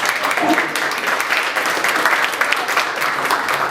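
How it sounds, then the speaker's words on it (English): An audience at an entrepreneurs' networking event in Wilmington breaks into applause, a dense, even wash of many hands clapping that carries steadily for a few seconds. "Yes, clap."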